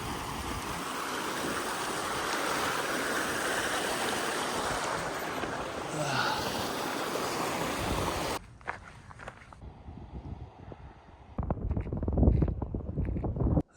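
Stream water rushes steadily at a trail water crossing beside a teal-colored lake, loud and close with wind buffeting the mic, then fades into quieter outdoor ambience with footsteps and scattered movement.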